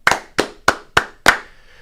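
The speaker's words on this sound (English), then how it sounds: "5 claps." Five sharp hand claps in a steady rhythm, close and loud, the last one ringing slightly longer; no talking.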